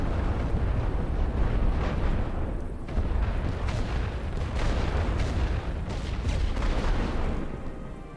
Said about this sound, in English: Ready for fire orders. For barrage. Fire all guns.